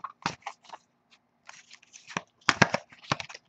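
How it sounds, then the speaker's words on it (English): Tarot cards riffled and shuffled by hand during a reading, a few quick close papery bursts with brief gaps between, alone without talk. "as I shuffle the deck"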